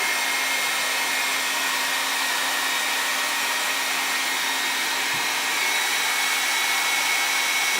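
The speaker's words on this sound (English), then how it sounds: "Anybody use a hairdryer to speed up your painting process?" A hair dryer runs continuously at a steady, loud whooshing roar with a faint whine, unbroken from start to finish.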